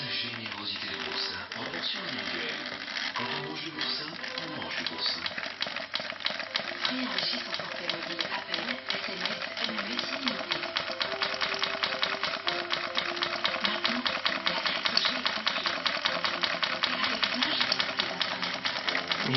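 Sewing machine stitching around the edge of a lace border, a fast steady mechanical chatter running throughout, close and loud, with a voice talking over it.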